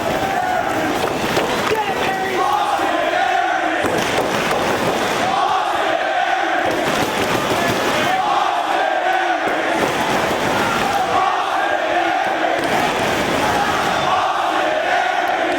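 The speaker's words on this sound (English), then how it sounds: "listen to this crowd, their appreciation for one half of the ROH Tag Team Champs" A professional wrestling crowd at ROH Supercard of Honor cheers Austin Aries, a loud, sustained roar that swells in rhythmic, chant-like waves under continuous ringside commentary.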